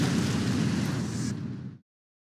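An explosion in the video game Total Overdose gives a heavy, loud rumbling blast that sustains with a crackling tail for nearly two seconds, then cuts off abruptly into silence.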